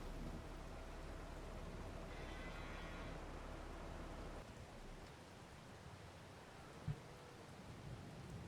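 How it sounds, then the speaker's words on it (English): Steady rain hisses in the Farming Simulator 22 farm game as a broad, even wash of noise, with a brief knock near the end and no talking. "Okay, it's raining."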